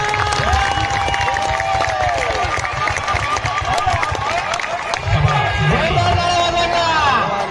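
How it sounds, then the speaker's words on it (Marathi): A crowd at a bull fight claps hard and continuously, a dense loud patter of many hands mixed with cheering and an announcer's voice talking over it. "हॅलो, जोरदार टाळ्या वाजवा."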